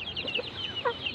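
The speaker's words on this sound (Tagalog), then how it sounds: "Ito manok rin ito" A chicken clucks in a quick run of short, chattering calls, close by and clear, with no talking.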